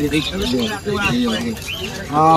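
Caged pet birds at a bird market chirp and call in quick overlapping bursts close by, mixed with people talking nearby.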